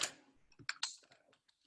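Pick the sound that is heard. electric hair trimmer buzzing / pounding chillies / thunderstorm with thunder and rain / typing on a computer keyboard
typing on a computer keyboard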